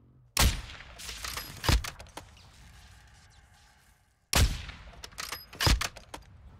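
Gunfire in Call of Duty DMZ, with two loud close bursts of several rapid shots each, about four seconds apart, over a low game ambience.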